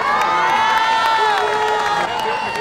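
A large crowd of thousands cheers in Belfast to welcome King William during a historical pageant, a dense, loud and steady wall of voices with shouts and whistles, close and continuous.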